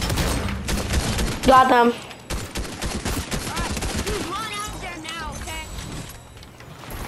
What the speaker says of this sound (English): I'm already being shot at!